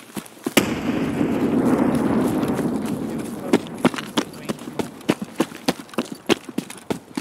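A grenade explodes during an Escape from Tarkov match, a loud broad blast early on that rumbles and decays over a couple of seconds, followed by a string of sharp percussive cracks and thumps with no talk.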